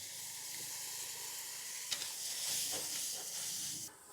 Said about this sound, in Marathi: थोडंसं पाणी घालून घेऊ।